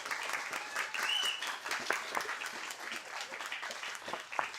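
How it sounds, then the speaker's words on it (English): A science-talk audience at an astronomy pub night applauds the speaker, a steady, moderately quiet crackle of many hands clapping with a few sharper claps poking out, continuing evenly throughout. "Let's give a round of applause to our speaker."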